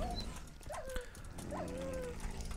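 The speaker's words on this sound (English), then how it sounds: "These dogs are annoying" Dogs in the Minecraft video game bark in two short yelps, one after the other, fairly faint under a quiet game background, with no talking.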